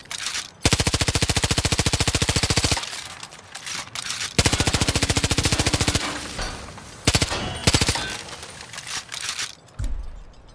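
An SMG firing piercing ammo in the video game Far Cry New Dawn, loud close rapid-fire bursts of gunshots in three long strings with brief gaps and a final short burst, no talk.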